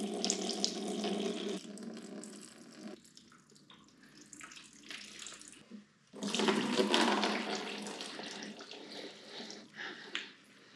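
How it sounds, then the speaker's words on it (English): Fluid gushing and splashing as coolant and oil drain from a Ford 351W 5.8L V8 engine being flipped over, two loud pouring bursts separated by a quieter trickle. "We're going to have coolant and oil come out,"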